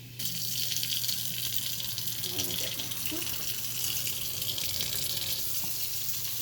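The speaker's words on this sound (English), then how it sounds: "So, I'm going to turn my faucet on." A sink faucet runs in a steady, close stream during a handwashing technique lab, and a person speaks briefly over the water.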